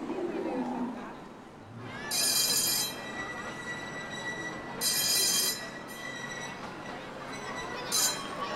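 A miniature model train rolls past at Legoland Miniland, its wheels giving bursts of high metallic squeal over a steady rumble, amid outdoor park ambience with people talking in the background.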